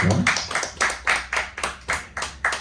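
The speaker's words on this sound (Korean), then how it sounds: "하나님께 영광의 박수 올려드립니다." Church congregation clapping in steady unison, a rhythmic series of about nine firm group claps at an even pace, close and fairly loud, with no voices over them.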